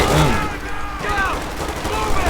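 Brief, dense battle gunfire in Company of Heroes 2 during the Ardennes Assault campaign, a loud cluster of overlapping shots.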